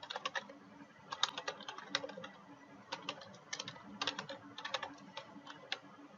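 Fingers type quickly on a computer keyboard, producing irregular bursts of light, close clicking keystrokes with short pauses between runs, heard alone at a fairly quiet level.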